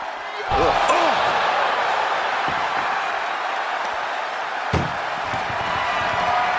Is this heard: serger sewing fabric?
no